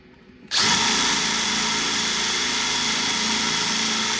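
A drill bores with a number 12 Forstner bit, starting abruptly after a half-second of quiet and then running as a loud, steady, close whirring grind to the end.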